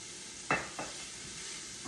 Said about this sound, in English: We're just going to stir this around for a few seconds till we start to smell that